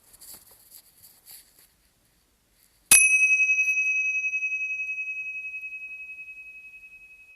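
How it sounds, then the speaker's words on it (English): A meditation bell gives a single bright, clear strike after a quiet pause, then rings out in a long pulsing tone that slowly fades, alone in near silence after a few faint soft taps. "at the sound of the bell"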